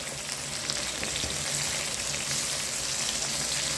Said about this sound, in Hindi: अच्छी तरीके से 1 से 2 मिनट फ्राई करेंगे